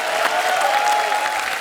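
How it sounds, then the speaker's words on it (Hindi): A television studio audience claps for the guests, a steady, dense burst of applause from a crowd, loud and close, with no talking over it. "एक बार जोरदार तालियां हमारे मेहमानों के लिए"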